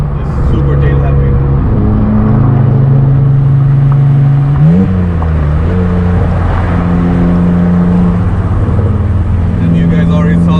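A BMW Z3 3.0 with a manual gearbox and muffler delete drives a canyon road, its loud raw exhaust droning steadily close by, with a brief rev change mid-way before settling back into a sustained pull.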